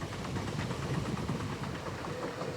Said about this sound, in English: we notice the train has picked up speed nearly 80 miles an hour